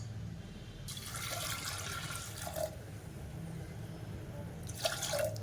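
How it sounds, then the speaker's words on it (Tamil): Water is poured into a cooking pot of lentils with keerai greens and chopped tomato. A long, splashing pour is followed by a pause and then a shorter second pour, both close by with no talking. "தண்ணி ஊற்றியாச்சு"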